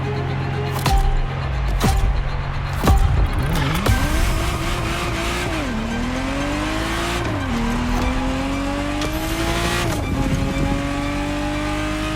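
A Ferrari Testarossa's engine revs repeatedly in The Crew Motorfest, its pitch climbing and dropping through gear changes with tire squeal and sharp impacts early on, loud and continuous throughout.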